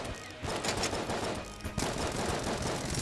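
In Enter the Gungeon, a Magnum fires in rapid, overlapping bursts, a loud, steady clatter of game shots with a brief dip before the barrage picks up again.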